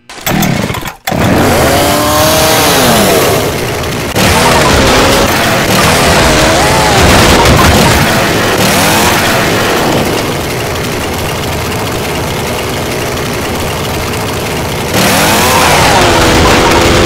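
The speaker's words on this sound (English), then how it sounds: "Chainsaw here." A chainsaw in the video game Return to Castle Wolfenstein on the beach map revs loud and close, whining up and down for the whole stretch with short dips between bursts.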